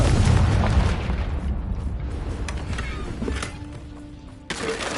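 A Confringo fire spell explodes in the Hogwarts Legacy video game, a loud booming burst at the start that rumbles and slowly fades, with smaller crackling impacts and a sharp hit near the end.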